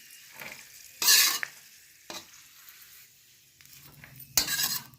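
Raisins and nuts roasting lightly in ghee in a pan for moong laddu, a soft sizzle under a few distinct, close scraping stirs and clinks of a spoon against the pan.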